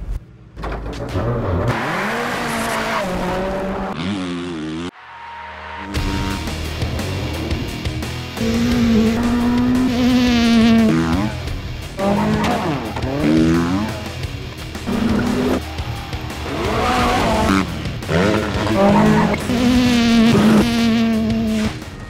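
Freestyle motocross motorbike engine buzzing and revving in high, wavering sweeps, loud and close, rising and falling repeatedly over a sustained drone, with a short drop-out partway through.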